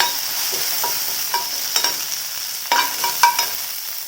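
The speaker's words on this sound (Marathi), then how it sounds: "मागीर करपील घालपाचो, एकदम सेकंद तो तेलान परतून घेवपाचो" Curry leaves crackle and sizzle in hot oil, with a constant bright hiss broken by sharp pops and spatters, a few louder bursts near the end, close and clear.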